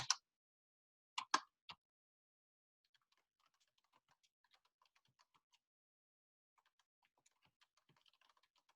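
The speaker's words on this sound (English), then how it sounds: "Oh, I keep typing just, hang on." Computer keyboard typing during a veterinary exotics review session: a few loud, close keystroke bursts at the start, then a long run of faint, quiet key clicks, with no talking.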